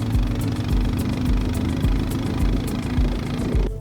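Motorbikes ride across rough mountain paths at high altitude, their engines chugging steadily and close with a rough, pulsing low rumble that continues throughout.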